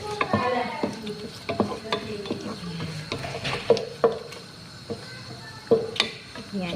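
Whole spices, bay leaves, cinnamon stick, cloves and star anise, cook in a pan for chicken machboos, with a light sizzle under repeated close stirring scrapes and clinks, uneven in rhythm.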